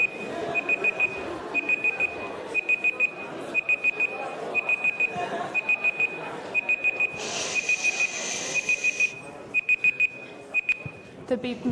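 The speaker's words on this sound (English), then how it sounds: "The beep means be quiet." A lecture break timer alarm sounds as a loud, close electronic beep in rapid repeated bursts, pulsing in short groups almost continuously, with a brief burst of hiss midway and murmuring room noise beneath.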